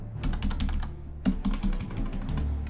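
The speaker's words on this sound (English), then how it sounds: "I'd still have to use the keyboard to put my name in" Rapid keyboard typing on a computer keyboard, a dense run of crisp key clicks with short pauses, close and clear over a low background hum.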